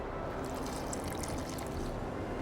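Water pouring in The Witcher 2: Assassins of Kings: a steady, dense splashing stream that lasts the whole short stretch at even loudness, with no talking.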